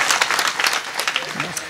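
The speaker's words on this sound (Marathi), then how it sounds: "एकदा टाळ्या वाजवा" Audience applause at a Marathi kirtan led by a kirtankar in Bavi: a dense, steady burst of clapping from a crowd lasting under two seconds, with voices mixed in.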